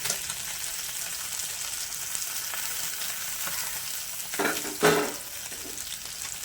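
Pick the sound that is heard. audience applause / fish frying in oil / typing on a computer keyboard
fish frying in oil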